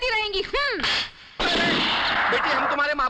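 Gunfire in a dramatic scene from a 1994 Hindi film, bursts of shots layered with whistling, swooping effects and a sudden loud stretch of blasts, heard alongside voices.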